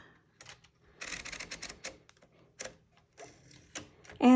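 Paper feeding into a 1957 Voss typewriter: a string of close mechanical clicks, ratchety turns and brief rustles from the roller and paper, irregular and fairly quiet, ending in a louder clunk.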